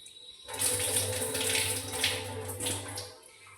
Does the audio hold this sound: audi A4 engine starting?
no